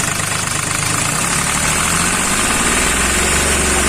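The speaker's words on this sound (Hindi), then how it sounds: "इसमें नॉकिंग का प्रॉब्लम है, बहुत ज़्यादा नॉकिंग है और इंजन थोड़ा मिसिंग टाइप में हो रहा है" A Hyundai Xcent engine with low fuel pressure runs loud and close as it is revved, giving a steady rough drone with uneven knocking and misfiring beats throughout.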